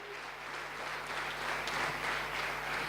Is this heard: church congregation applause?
yes